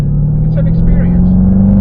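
Dodge Hellcat with a supercharged V8, its exhaust a loud low rumble near the microphone with a steady drone and a faint whine above it, heard throughout with no talk.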